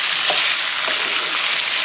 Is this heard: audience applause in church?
no